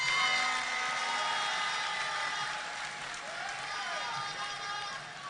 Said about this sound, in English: Another round of applause for our honorable chairman.